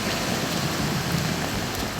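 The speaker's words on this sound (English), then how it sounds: "It's raining." Steady rain pours down outdoors, a dense continuous hiss of drops hitting surfaces, loud and unbroken with no voices.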